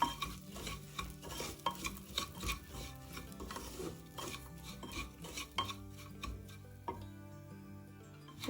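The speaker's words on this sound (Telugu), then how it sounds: "గోధుమ రవ్వ వేసి లో ఫ్లేమ్లో బాగా వేయించుకోవాలి." Wheat semolina roasting in a pan on low flame while being stirred, a quiet run of rhythmic scraping and tapping strokes with light metallic clinks, close up and without talk.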